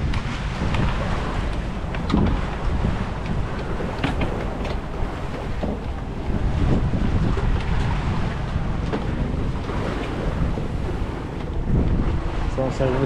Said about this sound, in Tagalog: So service boat natin, aapat na ngayon ang umiikot.